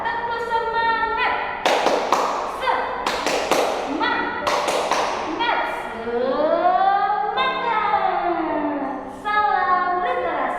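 A classroom of voices performs the Indonesian tepuk semangat clapping chant, sharp rhythmic hand claps in quick bursts interleaved with sung and spoken chant lines, close and lively.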